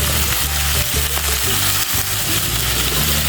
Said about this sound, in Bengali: দেখো বন্ধুরা মশলাটা কষানো হয়ে গেছে এখন আমি একটু জল দিয়ে দেব